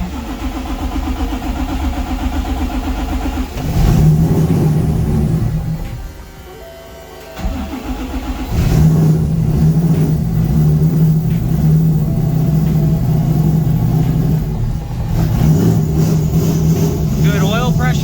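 Nissan Pulsar GTI-R fitted with a fully built aluminum-rod 2JZ engine idles loudly and steadily, a sustained squeal from a slipping belt riding over the engine drone, with a brief dip in the middle.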